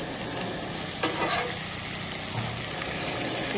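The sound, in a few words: vanjaram fish frying in pan with onion and tomato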